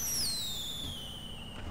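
A firework launcher in the video game GTA V shoots a firework up with a descending whistling screech that trails off over about a second and a half, sounding close and fairly loud.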